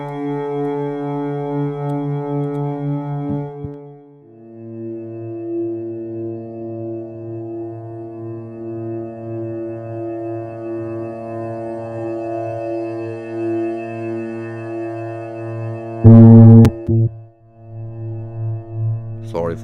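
Output from a synthesizer's spectral engine during a live techno session: sustained, steady electronic tones that shift pitch partway through, with a brief loud noisy burst near the end.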